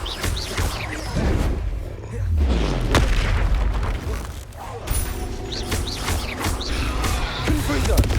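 Repeated Confringo blasting-spell explosions from Hogwarts Legacy on PS5, booming bursts landing every second or two amid constant combat noise, with voices talking over the fight.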